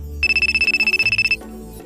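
A phone ringtone for an incoming call, a rapid, steady run of bright electronic beeps pulsing for about a second over low background hum, then stopping.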